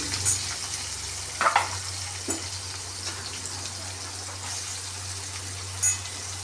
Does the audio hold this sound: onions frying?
yes